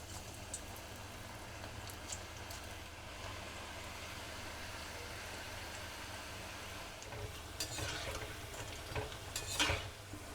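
Vegetable pakora batter deep-frying in hot oil, a steady low bubbling hiss that swells louder with crackling bursts near the end.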